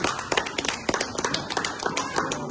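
Hands clap in a quick, slightly uneven rhythm, sharp close slaps repeating many times in a couple of seconds with little else around them.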